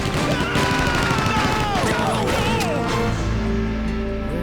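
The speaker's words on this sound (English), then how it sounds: "the police just decide to pull up to a random intersection and start gunning down zombies" Police gunfire at zombies at a city intersection in Resident Evil 3, a loud, busy volley of overlapping shots and crashes mixed with game noise, easing into a low rumble at the end.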